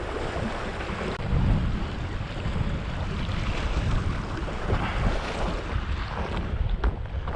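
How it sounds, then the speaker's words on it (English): Cold wind buffets the microphone on a rough Norwegian shore while fishing for coalfish and mackerel, a loud steady roar with surf and waves rumbling underneath and no pause. "Oh, cold wind, cold wind."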